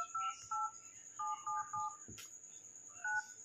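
Paired keypad tones beep as a code is entered on a mobile phone's emergency call screen, about seven short beeps in quick succession, faint and close, with a light tap between them.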